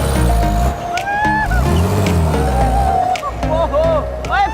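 Engine of an old bus, dug up after five months buried in the ground, grinding and straining loudly while reversing, its low rumble shifting pitch with revs, with excited voices talking over it throughout.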